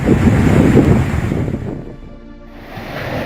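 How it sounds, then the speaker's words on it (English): Tsunami waves surge ashore on Tonga's main island, Tongatapu: loud, roaring rushes of water mixed with heavy wind buffeting on the microphone, easing midway before swelling again. "It took only minutes for the waves to arrive."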